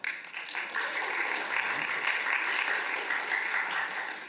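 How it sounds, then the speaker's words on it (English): Audience applause inside a theater during an arts careers workshop, a moderate, even spread of clapping from a crowd that swells quickly and holds steady for a few seconds, with some voices underneath. "Do it with a round of applause"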